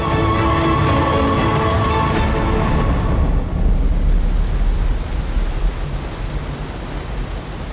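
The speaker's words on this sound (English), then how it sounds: "Leaving the surging waterfall behind" The Yellow River waterfall in Shanxi roars as a dense, steady wash of falling water that stays loud and continuous throughout, with a brief tonal layer at the start fading away.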